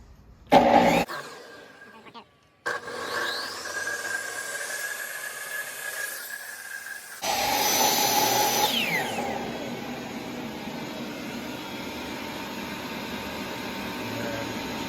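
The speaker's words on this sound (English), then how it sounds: "So vacuum stays on a little bit longer after the saw is done" A power saw cuts through material for a DIY subwoofer box in a cluttered garage, with a shop vacuum running loudly alongside; the saw stops and the vacuum keeps droning steadily for several seconds afterward.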